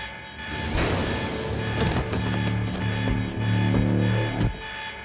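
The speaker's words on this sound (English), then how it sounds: "Alarm's not gonna make my life any easier." An alarm blares in the video game Quantum Break, a loud, sustained, pulsing electronic tone held over several seconds amid clattering game sounds, with no talking.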